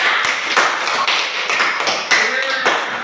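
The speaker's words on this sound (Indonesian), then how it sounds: "tepuk tangan sekali lagi untuk kalian semua" Students clap their hands together in a classroom, a dense run of sharp hand claps in steady quick rhythm, close and fairly loud, with a voice speaking faintly over them.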